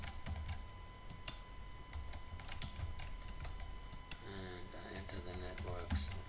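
Quiet clicks of a computer keyboard sound as a network router is configured, scattered taps over a low background hum while someone talks through much of it.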